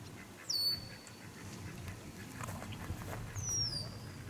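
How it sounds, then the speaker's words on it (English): Ducks squawking in agitation nearby, two sharp high calls breaking through steady outdoor background noise, with faint voices underneath. "these ducks are freaking out"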